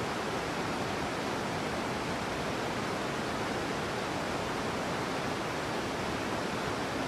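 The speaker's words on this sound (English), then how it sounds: "here we are at the bottom of the Niagara Falls" Niagara Falls roars from below in the Real VR Fishing video game, a dense, unbroken wash of falling water that stays loud and even throughout with no other sounds.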